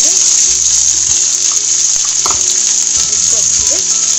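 Sliced onions frying in hot oil in a pan with a pinch of asafoetida, a steady bright sizzle throughout, with a few clinks and a voice talking over it.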